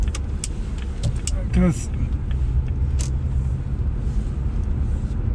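A 25-year-old Jaguar XJ6 X300 on 18-inch wheels driving on the road, steady low cabin rumble with air conditioning running, while someone talks over it.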